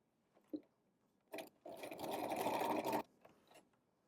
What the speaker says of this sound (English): I'm gonna use a straight stitch to back stitch over the end of the elastic